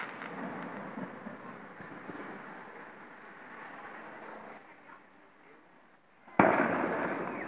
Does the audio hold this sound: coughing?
no